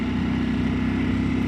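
A Ducati Panigale motorcycle engine runs close by with a steady, throbbing low-pitched hum and a faint pulsing rhythm, loud and continuous over the short stretch.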